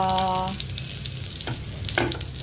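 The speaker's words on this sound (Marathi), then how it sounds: "आता ह्याच्यात मी टाकणार आहे कढीपत्ता." Curry leaves hit hot oil in a wok on a high flame ahead of frying frozen bangda mackerel, setting off a loud, dense, steady sizzle that fills the moment up close, with a couple of brief clinks and no talking.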